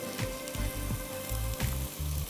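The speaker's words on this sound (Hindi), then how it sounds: "फ्राई कर दी, उसमें हम अदरक और लहसुन डालेंगे" Ginger and garlic fry in a hot pan with spices, giving a steady, close sizzle with rhythmic low bubbling pulses and no talking.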